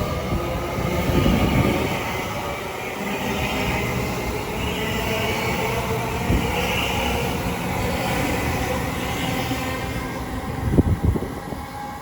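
A Southern train service bound for East Croydon rumbles through Watford Junction station on the West Coast Main Line, a steady continuous roar of wheels and traction with a brief louder clatter near the end.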